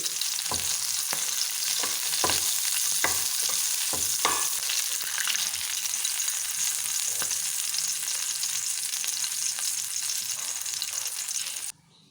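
Curry leaves frying in hot oil for a Kerala chammanthi, a loud, steady sizzle with sharp crackles and pops bursting through in the first few seconds, no voices, cutting off abruptly at the end.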